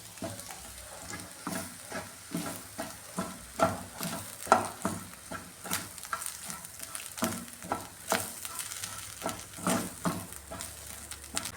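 Chili flakes and grated coconut stirred into capsicum and egg thoran in a pan, with a steady soft sizzle and repeated scraping stirs that come in uneven strokes throughout, close up and with no talking.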